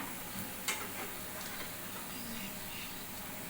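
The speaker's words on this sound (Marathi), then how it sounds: "आता या तांबूस रंगावर तळून झालेले आहेत यांना आता आपण काढून घेऊया" Alu vadi, rolled colocasia leaves, fry in hot oil with a steady soft sizzle and hiss, punctuated by a brief clink near the start.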